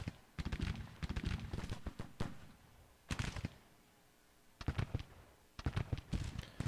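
Artillery from 12-pound Napoleon cannons fires in the Civil War strategy game Grand Tactician, in clusters of sharp, loud cracks and booms with short quieter gaps between volleys.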